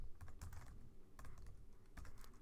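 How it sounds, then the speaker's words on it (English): Someone types on a computer keyboard in bursts of soft, close key clicks with short pauses between them, no voice over the tapping. "Oops, sorry about my typing."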